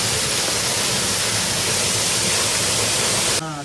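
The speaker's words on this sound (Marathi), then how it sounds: "हा वर्णे धबधबा" Varne waterfall pours steadily beside the ancient Buddhist caves near Karjat, a dense, continuous roar of falling water that stays close and loud before dropping off abruptly near the end.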